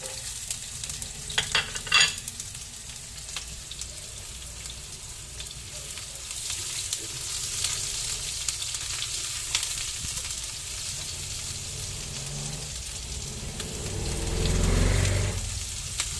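Onion sautés in a hot pan with a continuous low sizzle, punctuated by clinks and scrapes of a stirring utensil, and a brief surge of louder hissing near the end.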